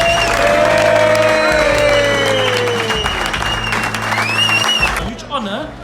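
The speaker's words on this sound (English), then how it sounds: "they're cheering for you" A golf club crowd applauds and cheers its 2021 Duckhook Classic champion with loud, sustained clapping and whoops, while a voice speaks over the noise before it fades at the end.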